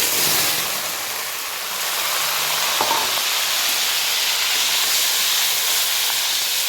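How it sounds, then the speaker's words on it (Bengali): Dried fish (shutki) frying in a wok, a steady, loud broadband sizzle and hiss that runs unbroken throughout, heard close with no voices. "শুটকিগুলোকে সুন্দর করে ভেজে নেব।"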